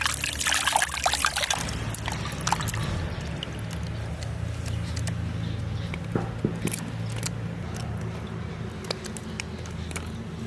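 Water trickles and pours steadily while soaked dried hilsa fish is rinsed by hand, a close continuous stream with scattered splashes and patters, heaviest in the opening seconds.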